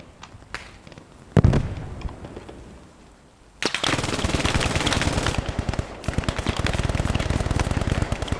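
Machine gun fire in a war video game: a sharp burst and a loud blast, a brief lull, then sustained rapid automatic fire rattling on continuously, loud and close, with no talking.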